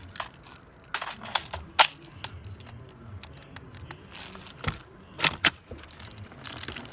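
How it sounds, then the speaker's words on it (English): M4-style airsoft gun being loaded, a series of sharp metallic clicks, snaps and rattles close by, spaced irregularly with a few louder clacks among quieter handling noises. "So we're going to go ahead and we're going to load this gun up."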